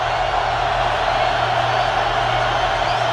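Steady stadium crowd roar at a Ravens home football game in Baltimore against the Colts, a dense, continuous wall of cheering and noise held at an even level throughout, with a low hum underneath.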